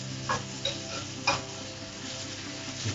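Pepper, aubergine, pork and prawn in black bean sauce sizzle steadily in a pan, with a few brief scraping and tossing knocks as the food is stirred and flipped.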